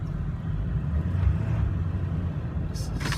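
A 2003 Ford truck with a 7.3L diesel creeps along in 4 low, a low steady engine rumble up close, with faint higher clatter near the end and no speech.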